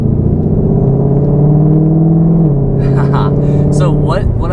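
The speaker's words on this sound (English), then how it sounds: "you can hear the supercharger whine once you get on it just a little bit" A 760 hp Ford Mustang Shelby GT500 with a supercharger, its engine droning steadily at idle then rising briefly in a short revving stab, close and loud, with speech over it.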